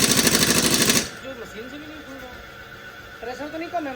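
Pneumatic impact gun hammering at nuts on a Mahindra Scorpio, a loud rapid rattling burst for about a second before cutting off, then voices talking nearby in a workshop.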